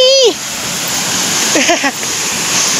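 Water rushes through Sundarijal dam in a steady, broad roar that fills the background, while a voice and a couple of bright whistling or squeaking calls rise briefly above it.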